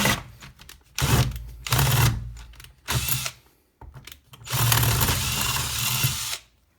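A Parkside PBSA 12 C2 12V cordless screwdriver with a detachable chuck whirs in several close, loud bursts of varying length, separated by short pauses and ending with one long sustained run.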